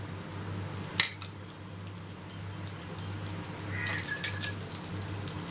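Toor dal, urad dal and coriander seeds frying in a pan for curry leaf rice, a steady soft sizzle throughout with one sharp clink of a utensil near the start.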